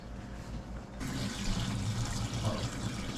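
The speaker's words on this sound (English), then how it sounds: "the water's dumped out" A pot of dirty water used for cleaning a skull is dumped out, giving a steady close pouring and splashing wash that runs for a few seconds.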